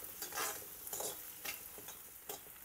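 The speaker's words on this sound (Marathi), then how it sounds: "आता घालूया टोमॅटो अगदी मिनिमम क्वांटिटीमध्ये। मिक्स करून घेऊया।" Chopped onion and tomato for street-style egg bhurji stirred in a hot pan, sizzling and frying with a few distinct scraping stir strokes close up, no talking.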